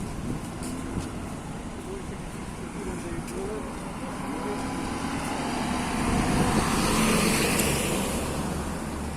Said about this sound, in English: And here come the fire engines, now heading back to the station probably.